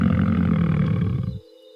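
A lion gives a single short, deep roar that fills most of the moment and then cuts off abruptly.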